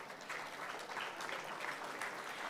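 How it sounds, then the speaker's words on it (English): Quiet, steady applause from an audience welcoming speakers onto a stage for a panel conversation, a soft continuous patter of clapping heard from a distance. "Please welcome them on stage with a huge round of applause."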